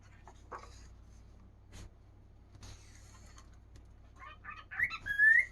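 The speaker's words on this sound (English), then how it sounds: "You can hear the bird talking while we do our flip." An indoor pet bird makes soft chirps and short whistles that grow louder toward the end, with quiet page-rustling from a coloring book in the background.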